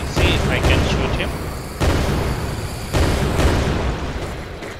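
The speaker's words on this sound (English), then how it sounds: "let me see if I can shoot him" Loud booming gunshots from a zombie shooter video game built in Unreal Engine 5.4, three heavy blasts roughly a second apart, each trailing off into a rumbling tail under continuous game ambience.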